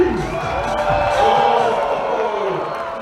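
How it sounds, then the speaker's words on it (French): Outdoor crowd at a snowskate street-final festival in Montreal's Latin Quarter cheering and whooping for a rider, a dense sustained roar with shouts rising over it, mixed with voices throughout. "Est-ce qu'on peut donner une bombe à l'applaudissement pour Phil Ouali?"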